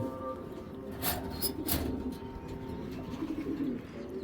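Giribaz pigeons coo in a loft holding a large flock, with a few soft, throaty coos rising over a steady background murmur of birds.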